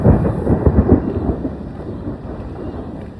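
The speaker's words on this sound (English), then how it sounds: "I'm really appreciating the rain sounds, and pretty soon it's going to downpour" Steady outdoor rain with rolling thunder rumbling through the first second or so, then easing into a continuous wash of rainfall; no voices.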